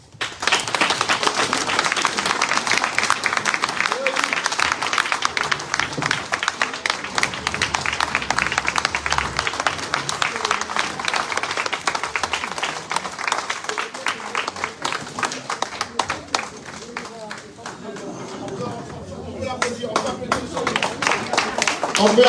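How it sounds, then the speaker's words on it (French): An audience applauding a minister, a long burst of dense, loud clapping throughout that thins slightly near the end, with some voices under it. "On peut applaudir monsieur le ministre."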